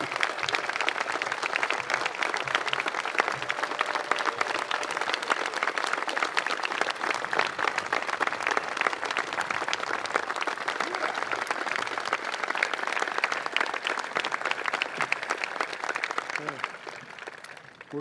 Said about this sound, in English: I would like to have each of them stand so we could give them a round of applause.